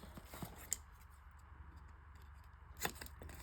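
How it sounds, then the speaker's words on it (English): Scissors snip off the corners of a paper craft pocket: two faint, sharp cuts about two seconds apart over a quiet hiss of room tone. "Cut off our corners."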